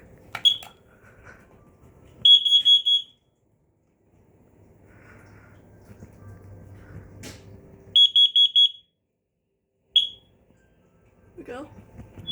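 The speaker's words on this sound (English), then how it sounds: "I'm gonna test one more detector here." A home smoke detector under test sounds in short bursts of rapid, shrill beeps, in three separate groups with quiet gaps and faint room noise between them.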